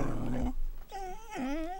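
A dog growls low, then breaks into rising, wavering whines, close and clear, with no talk over it, inside a family home at dinnertime.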